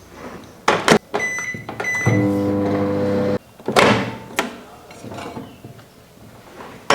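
Kitchen clatter and door thunks around a steady electrical hum from a microwave reheating a burger, then beeps and more handling noises.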